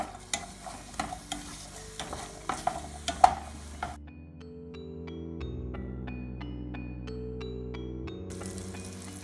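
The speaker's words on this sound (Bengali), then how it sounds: "প্রথমে আমরা একটা পাতিলে বাটার 20 গ্রাম, অনিয়ন কিউব এবং রসুন কিউব দিয়ে দিব।" Cubed onion and garlic frying in 20 grams of butter in a pot over medium heat, with a steady sizzle and sharp scraping stir clicks for about four seconds before giving way to sustained musical tones.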